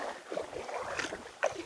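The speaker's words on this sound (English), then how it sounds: "I'm just figuring might as well just paddle down there" Paddle strokes dip and swish through the water as a boat glides downstream on a winter fishing trip, with soft splashes recurring every second or so over light wind noise and no talking.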